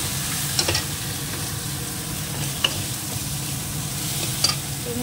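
Fish head being sautéed in a pan with cumin and turmeric spice, a steady low sizzle with occasional clinks of the stirring spoon against the pan, close and continuous with no talk.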